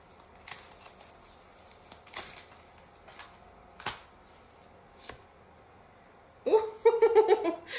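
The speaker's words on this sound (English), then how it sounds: "I'm just shuffling these cards" Tarot cards being shuffled by hand: scattered soft flicks and taps, then a denser riffling burst near the end, close and fairly quiet.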